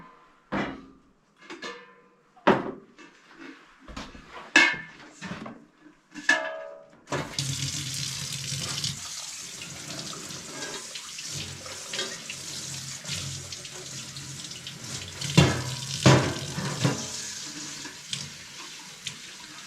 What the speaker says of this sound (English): we give everything a quick wash